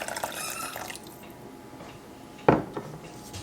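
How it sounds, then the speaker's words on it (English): Water is poured into a pot of couscous in a kitchen: a brief splashy pour followed by a sharp clank of cookware, close and alone. "I'm going to go ahead and add in all of my water"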